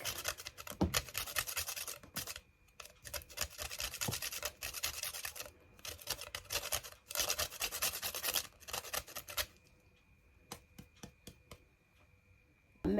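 A whole nutmeg is grated for Ghanaian sugar bread, giving close, dry raspy scraping in steady bursts with brief pauses, then a few faint scrapes near the end.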